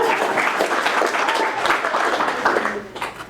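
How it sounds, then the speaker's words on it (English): An audience at an award ceremony breaks into applause, dense overlapping clapping that fills the room steadily for a few seconds before thinning slightly at the end. "round of applause for her, really quick"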